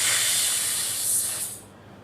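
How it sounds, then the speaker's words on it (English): Air rushes out of a released toy balloon in a steady loud hiss that holds for about a second and a half, then fades quickly as the balloon deflates. "I have my balloon, and when I let it go, it zooms off."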